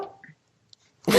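A dog makes a short, sharp sound, like a huff or a bark, at the very start and again at the end, separated by near silence.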